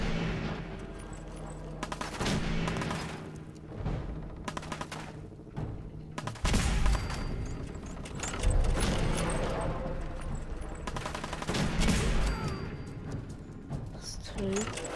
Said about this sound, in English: Laser musket.